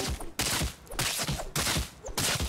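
Rapid bursts of video game gunfire in Fortnite, several loud volleys cutting in and out in quick succession, close and punchy with no one talking over them.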